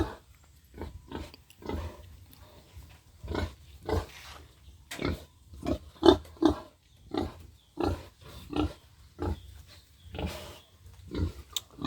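Pigs and piglets in a farm pen grunt and oink in short, repeated bursts with irregular spacing, close and moderately loud over a faint background hum.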